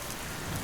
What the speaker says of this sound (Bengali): বাইরে তখনও হালকা বৃষ্টি পড়ছে।